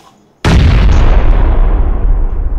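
A grenade blast in a video game: one sudden, very loud boom that rolls into a long, dense rumble lasting the rest of the moment, with no talking over it.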